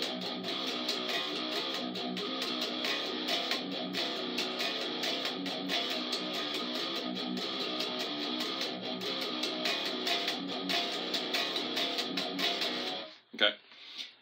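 Distorted electric guitar chugs through the power chords of a riff, a dense, steady, loud rhythm lasting several seconds before it cuts off abruptly.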